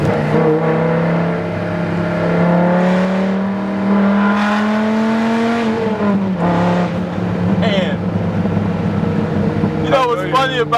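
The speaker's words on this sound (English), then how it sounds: "that's the sound because Corsa has some of the best sounding exhaust" Dodge Viper GTS ACR engine running through a Corsa exhaust, a steady loud droning rumble that rises slightly in pitch before settling, with brief revs near the end, heard alongside people talking.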